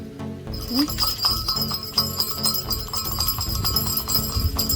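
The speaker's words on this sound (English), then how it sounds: "This is my bell." A Christmas bell ornament on a decorated tree jingles in repeated bright, tinkling shakes, close and clear, with light handling noise between the rings.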